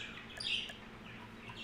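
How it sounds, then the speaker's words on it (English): Pet parakeets and a cockatiel in a home give a few faint, short high chirps, one brief bright tweet standing out against quiet background. "I have 13 parakeets and a cockatiel"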